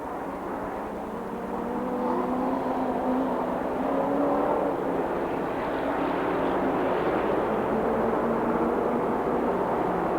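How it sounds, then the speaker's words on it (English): Race cars at the 1998 Bahama Bracket Nationals AAAA feature make a continuous, loud, roaring engine drone from several cars. The roar swells slightly and then holds steady, with no talk over it. "Kevin Monk, I think just his second time out with that 0-1 race car"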